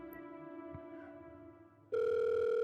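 Telephone ringback tone on a call to an uncle: a soft steady tone, then from about two seconds a loud, sustained electronic ring tone that runs to the end, with no voices.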